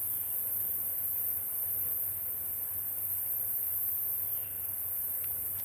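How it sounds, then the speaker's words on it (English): Cicadas in Alabama buzz in a constant, high, dense drone outdoors, steady and moderately loud with no talking, a faint low hum underneath. "the cicadas don't seem as loud as they were this morning"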